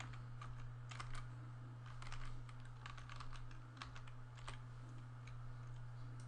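Quiet, rapid clicking of a computer keyboard as Java code is typed, irregular bursts of keystrokes over a constant low electrical hum, with no talking.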